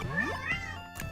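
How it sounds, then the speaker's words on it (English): A cat meows in the background, one long rising-and-falling meow followed by a shorter cry and a brief final yowl, moderately loud over steady electronic hum. "Sorry for the cat in the background."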